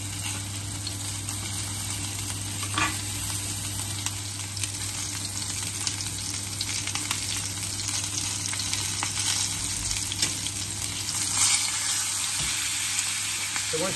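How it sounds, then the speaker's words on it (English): A rack of lamb sizzles steadily in a hot pan, a continuous dense crackle and hiss with a few sharper pops, close and unbroken throughout. "So we're going to roast this in the pan for 4 to 5 minutes"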